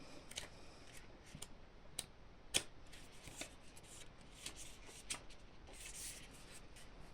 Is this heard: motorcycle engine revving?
no